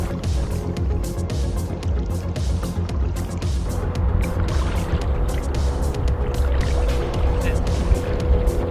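Paddling on a lake with a board or canoe: repeated soft paddle strokes and light water splashes, close by and rhythmic, over a steady low background rumble.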